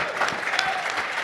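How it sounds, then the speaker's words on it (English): A boxing press conference crowd breaks into brief applause, a dense, even patter of many hands at moderate volume lasting just over a second. "round of applause"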